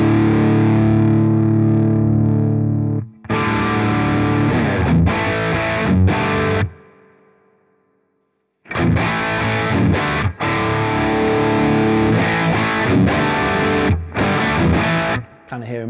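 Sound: electric guitar through V4 The Sheriff amp, saturated Marshall-like tone

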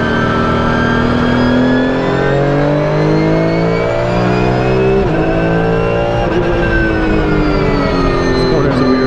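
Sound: Porsche 992 GT3 Cup race car engine driving

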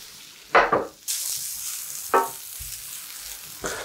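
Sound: zucchini frying in a pan

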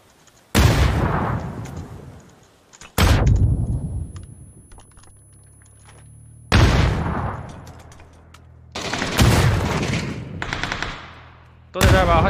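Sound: gunfire in a shooter video game

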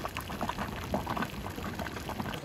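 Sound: hot spring water bubbling and boiling

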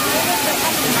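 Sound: Dhaskund waterfall, Mahasamund, Chhattisgarh

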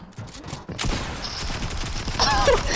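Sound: gunfire in the video game Fortnite

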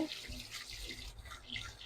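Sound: rinsing boiled noodles under water in strainer

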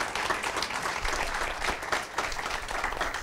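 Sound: audience applause for a church member

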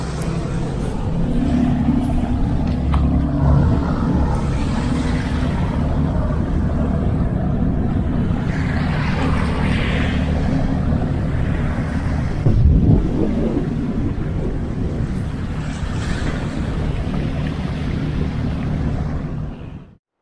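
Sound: boat departing

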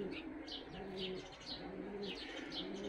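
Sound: tumbler pigeons cooing

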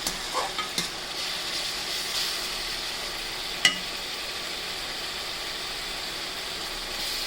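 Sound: duck meat and spices frying in a little oil

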